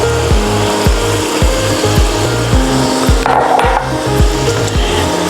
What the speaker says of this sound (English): Now constantly whisk to dissolve the sugar